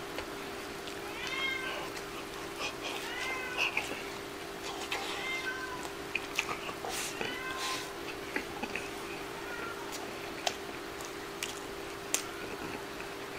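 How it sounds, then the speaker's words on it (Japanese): A cat meows again and again over about thirteen seconds, short, nasal and fairly close, with a steady electrical hum underneath, soft clicks and a little speech now and then. "ピーナッツもね、ニャーニャー言いたいだけやと思うね"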